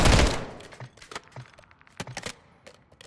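The DG-58 LSW SMG fires in a first-person shooter video game: a loud opening burst, then short clusters of rapid gunshots with crisp cracks, no talking.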